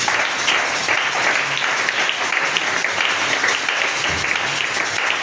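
A church congregation breaks into sustained applause and cheering, a dense, loud wash of clapping and voices filling the whole stretch without pause.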